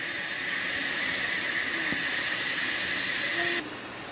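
An Instant Pot cooking a whole chicken vents steam in a steady, loud, close hiss that holds for several seconds before cutting down abruptly near the end, with no talk.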